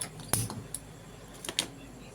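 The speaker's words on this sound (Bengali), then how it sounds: "আমি বসিয়ে দিলাম কড়াইটা" A karai (wok) is set down on a kitchen stove before frying brinjal fritters: a sharp metallic clank near the start and a second clatter later, with quieter small knocks between, all close by.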